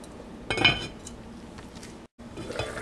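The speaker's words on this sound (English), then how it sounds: "Put the lid on and wait for it to boil." A lid set down on a cooking pot of Avial, a Kerala mixed-vegetable dish with frozen peas: one short metallic clatter with a brief ring, alone in a quiet kitchen.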